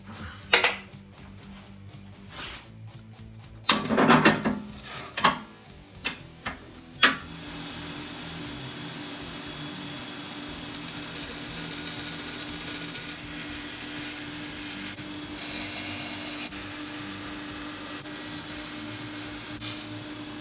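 A power tool cuts out a part for a homemade electric guitar: a few clattering knocks and clunks at first, then a steady, fairly quiet whirring hum that runs on unbroken.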